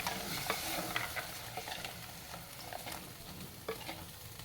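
Tamarind water poured into a pan of spice masala for a tuna fish curry, giving a soft steady sizzle with occasional stirring scrapes, close and fairly quiet.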